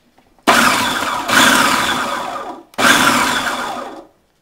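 A food processor pulses cream cheese and artichoke hearts in three loud, whirring bursts of roughly a second each, separated by brief near-silent gaps, with no talking.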